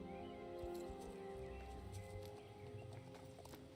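Hooves of a Marwari horse clip-clop in the video game Star Stable, a soft, steady walking rhythm kept low under game music and ambience.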